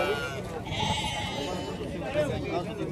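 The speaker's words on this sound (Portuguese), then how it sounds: "Olha as ovelhas aí dele aí" Sheep bleat repeatedly at a busy livestock fair in Tabira, Pernambuco, close and loud amid constant crowd chatter and someone talking nearby.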